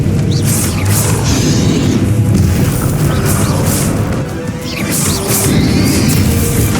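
Spell explosions boom and crash continuously during a Hogwarts Legacy battle, a loud, dense barrage of blasts and impacts layered one over another with no pause.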